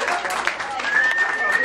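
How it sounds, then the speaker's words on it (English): An audience at a country music show applauds, a brief, dense patter of clapping mixed with crowd noise and a thin tone. "Thank you all for that thunderous round of applause."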